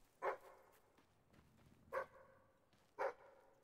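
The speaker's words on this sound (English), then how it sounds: "I don't know what that dog's doing." A dog barks three times in the Fable 3 video game, sharp separate barks spaced over a few seconds against quiet game ambience, with no talking.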